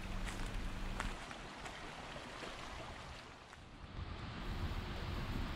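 Creek water flows steadily along Gordon Creek on the Two Creeks bushwalking track in Australia, a broad continuous wash with some wind, close and fairly constant, with no voices.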